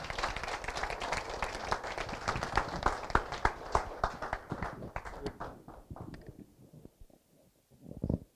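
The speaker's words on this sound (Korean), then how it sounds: "큰 박수로 모시겠습니다" Audience applause at a humanities lecture in Incheon welcoming a former Minister of Unification, dense rhythmic clapping that builds, peaks, then thins out and fades to near silence before a brief burst at the end.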